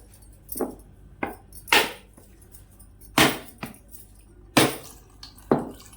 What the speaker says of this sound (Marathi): हा नारळ आहे ना चांगला असा फोडून घ्यायचा आहे